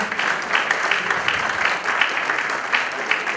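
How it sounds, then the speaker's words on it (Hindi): A conference audience at CODFICON 2022 applauds to welcome guest Mr Sampat Saral: dense, even clapping from many hands, sustained and fairly loud throughout, with no speech over it. "तालियों से स्वागत होना चाहिए संपत सर साहब का"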